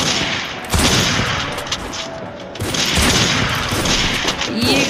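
Rapid gunfire in the Free Fire battle royale game, loud sustained automatic bursts with a short lull between them and faint voices of players underneath.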